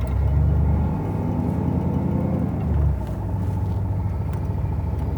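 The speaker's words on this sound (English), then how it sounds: "I'm going to turn this off so you can hear it shift and you can hear the motor." 1964 Cadillac engine and transmission while driving slowly, a low, steady engine rumble with audible changes in pitch as the automatic shifts, close and clear with no talking.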